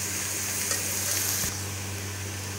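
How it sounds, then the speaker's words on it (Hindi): Sausage macaroni frying in a pan over a low flame, with a steady close sizzle and crackle throughout and a faint stirring scrape near the middle. "अब ये बहुत अच्छी तरीके से फ्राई हो जाएगी।"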